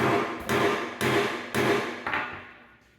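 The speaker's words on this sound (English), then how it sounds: "Go ahead and hammer it on." Four sharp hammer blows drive a metal ferrule onto a snare cable, evenly spaced about half a second apart, each ringing briefly before the last fades out.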